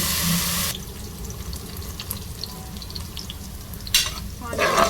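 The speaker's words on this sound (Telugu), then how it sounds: "కరివేపాకు పచ్చిమిర్చి వీటిని బాగా ఫ్రై చేసుకోవాలి" Curry leaves and green chillies fry in a pan for a chicken curry, with a bright sizzling burst at the start that settles into quieter crackle and stirring, and a renewed hiss near the end.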